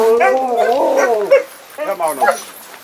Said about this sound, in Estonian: Kõigepealt nad näitavad, eks ju, kuidas koeri toidetakse.